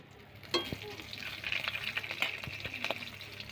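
Bay leaves dropped into hot oil in a kadai give a sudden crackle and then a steady low sizzle with small pops, quiet and close, with no talking.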